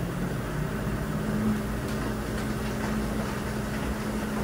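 Spray rinse during the final spin of an LG WM4000HWA TurboWash front load washer: a constant motor drone with a steady tonal hum and faint hissing water spray, even and unbroken throughout.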